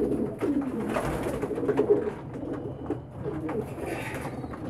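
Pigeons cooing in a loft kept for weather protection, a steady run of soft, low, burbling coos from several birds close by, with no talking.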